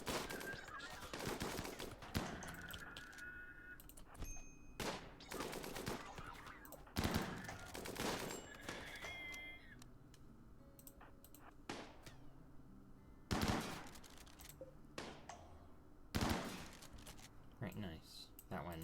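Gunfire from a turret battle in the video game RimWorld, with bursts of rapid shots and impacts recurring across the clip over a steady game ambience, and someone speaking throughout.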